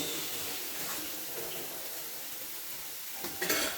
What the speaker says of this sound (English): So I'm going to be dropping in 2 sausage to fry as well.